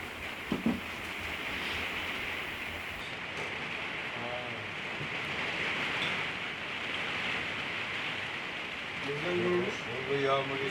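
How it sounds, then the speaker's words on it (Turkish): Steady rain falling at a mountain shepherds' camp, a constant even hiss of drops on surfaces, with people talking now and then over it. "Burada yağmur yağıyor."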